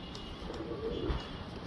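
Pigeons give a low, soft cooing murmur in a loft while being fed, faint and brief against quiet background noise.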